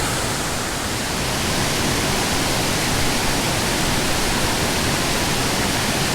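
A wilderness waterfall pours into a pool, a dense, unbroken broadband roar that stays loud and even throughout, close by and with no voices.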